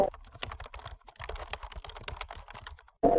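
Rapid typing on a computer keyboard while entering a search into a browser search bar, a close, steady patter of key clicks that runs alone for about three seconds and ends on a louder burst.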